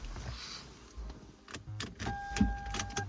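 A Lexus RX350 is started with the ignition key: a few clicks and chime tones, then a short cranking burst as the engine catches and settles into a low idle, all close and fairly quiet.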